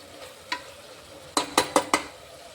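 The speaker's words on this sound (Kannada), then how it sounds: "ಇದನ್ನು ಮಸಾಲ ಖಾರ ಹಾಕೊಂಡು ಬಳಿಕ ಇಲ್ಲಿ ನಾವು ಚೆನ್ನಾಗಿ ಒಂದು ಸ್ವಲ್ಪ ತಿರುಗಬೇಕು" Spiced masala stirred in a sizzling pan for a beetroot pulao: one spoon scrape, a pause, then four quick, sharp scraping strokes over a soft sizzle, with no talking.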